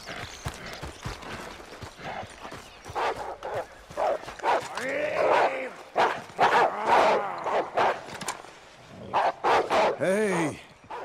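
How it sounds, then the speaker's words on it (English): Dogs barking in Red Dead Redemption 2, a run of repeated deep barks mixed with hoofbeats from a horse, with game voices and other noise around them through most of the stretch. "Hey, nice dogs."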